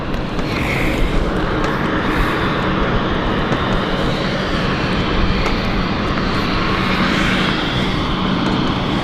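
A KLM airliner lines up on the runway at London City Airport, its jet engines producing a loud, steady broadband roar that holds constant throughout with no talk.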